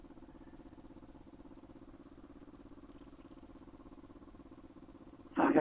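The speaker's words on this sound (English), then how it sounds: "I gotta fix the exhaust leak on this thing." A motorcycle engine idles with a steady, even low throb and a chuffing exhaust leak where the mid-pipe meets the headers, running alone and close for most of the clip before a sudden louder burst at the end.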